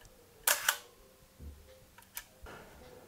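An analog film camera fires with a sharp, loud double-clack shutter release, followed by softer clicks and ticks from advancing and handling the mechanism in a quiet room.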